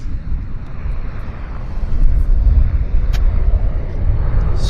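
A heavy jet airliner from Incheon at Vancouver Airport, a loud continuous low engine roar that swells slightly midway, heard from a distance with no talking.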